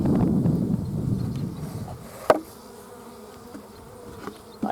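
Honeybees buzz around strong ten-frame hives in an outdoor apiary, a steady droning hum that is loudest at first, then thins to a fainter background buzz broken by a couple of sharp knocks.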